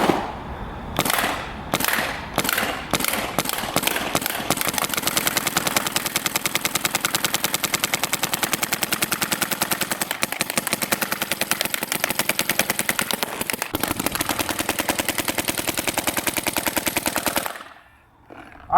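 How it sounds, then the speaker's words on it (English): A paintball gun fires at a paintball mask, starting with several separate shots before breaking into a long, rapid, loud stream of firing that stops abruptly near the end. "And we're gonna take a couple shots at it."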